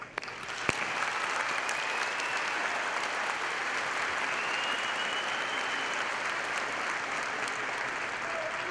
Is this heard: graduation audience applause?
yes